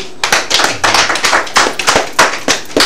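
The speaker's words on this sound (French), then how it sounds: "Merci d'accueillir, d'applaudir pour Sam qui est avec nous." Studio audience on the set of a Togolese TV2 culture programme applauds, a dense, loud patter of many hands clapping in uneven bursts that fills the whole moment with no voices over it.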